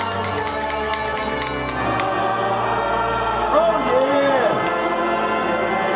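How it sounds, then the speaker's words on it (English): Church bells ring outdoors with a sustained, resonant tone, while voices and crowd chatter are heard around them. "And you can hear them church bells ringing."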